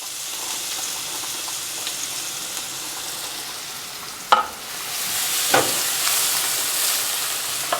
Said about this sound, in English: So in go your onions and garlic.